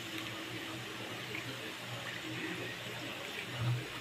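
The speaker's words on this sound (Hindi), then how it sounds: "अब हम इसमें पानी डालेंगे ताकि गोश्त गल जाए।" Water pours into a pot of spiced stuffed meat pasande as a steady, fairly faint splashing rush that carries on throughout.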